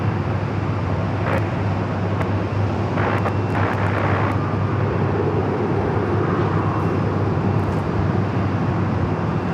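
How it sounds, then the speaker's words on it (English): A Delta Boeing 737-900ER jet airliner at LAX gives off a loud, steady broadband roar that fills the whole stretch without letting up, mixed with distant traffic-like rumble. "It's Delta flight heading to Cabo, flight 1884, 737-900ER"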